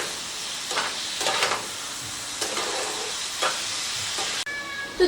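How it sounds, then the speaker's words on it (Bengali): Egg and spices frying and being stirred in a pan with a little water for a street-style gravy, a steady close sizzle and hiss with bursts of spatula scraping. "মশলার সাথে ডিমটাকে ভালো করে কষিয়ে নিচ্ছি"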